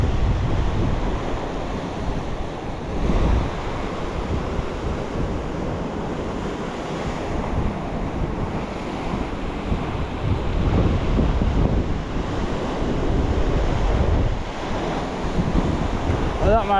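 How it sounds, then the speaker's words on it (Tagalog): Strong ocean waves breaking at a seaweed-strewn shore, a continuous heavy surf roar with repeated surges and buffeting wind noise on the microphone, no voices. "Malalakas pang alon."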